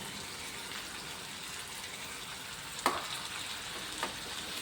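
Onions added to chicken roast sizzling in a pan, a continuous close frying hiss with a sharp clatter of ingredients dropping in midway and a softer stir a second later.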